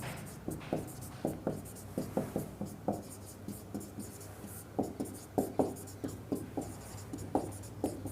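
Pen writing out a question on paper: quick scratchy strokes in irregular bursts, close and fairly quiet, with no talk over it.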